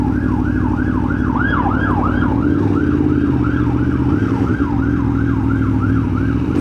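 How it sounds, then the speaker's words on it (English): An emergency vehicle siren wails in a fast, repeating yelp as it passes on the road, loud and close over the rumble of a car pulled in to the side. "Let's just pull in and let this emergency vehicle past."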